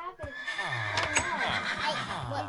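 A horse in the Minecraft video game whinnies, a wavering high neigh heard up close, with game sounds around it and no talking.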